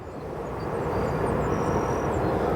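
A Boeing 757-200 jet with Rolls-Royce engines at O'Hare Airport roars steadily and loudly with a broad engine rush and a faint high whine, building slightly as it passes nearby.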